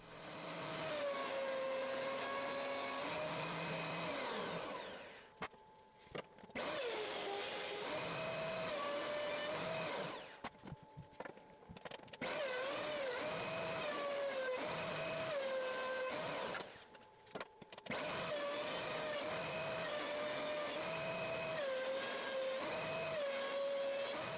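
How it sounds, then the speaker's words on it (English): A thickness planer feeds wooden boards with a loud, steady high whine, cutting through three long passes separated by short near-silent gaps as each board exits. "This time I'll run on the planer first, as I want to rip those boards to width right away"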